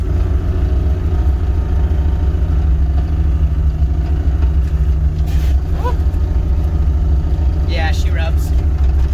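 A Nissan R32 GTR engine drones steadily from inside the car while driving, a constant low rumble with a few faint squeaks and rattles over bumpy ground.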